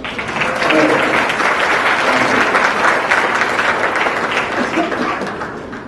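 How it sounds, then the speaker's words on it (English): An audience applauds at a Canada India Foundation speech event in 2018, a loud, dense burst of many hands clapping that holds steady for several seconds and tapers slightly at the end. "I need applause. Come on, guys."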